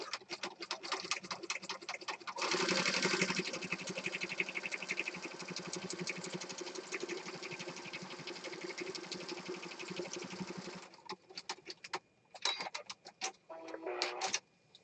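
A sewing machine stitches down the edge of a paper journal card in a mixed media craft session, a steady close mechanical whir with rapid needle ticks running for several seconds before stopping in short bursts.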